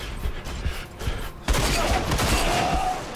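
Gunfire in the video game RAGE as a player shoots at an exploding bottle, with sharp repeated shots and a louder burst at the blast, all close and loud with no talk.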